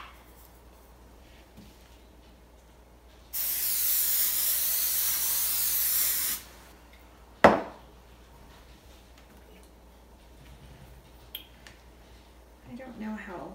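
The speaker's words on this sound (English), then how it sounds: "now I'm just going to spray this griddle and we'll get these on there" Cooking spray hisses onto a griddle in one loud, steady burst of about three seconds, followed by a sharp clack and quiet kitchen sounds.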